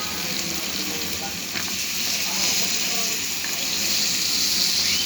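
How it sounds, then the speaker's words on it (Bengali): Beans and potatoes fry in a pan with a steady, close sizzling hiss that holds evenly throughout, with no talking. "শিমটা দিয়ে আমি বেশ ভালো করে কষিয়ে নিচ্ছি"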